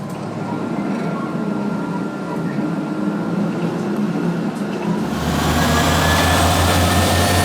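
A train in Poland rumbles along steadily, then the low roar swells and deepens partway through as the carriage noise grows louder.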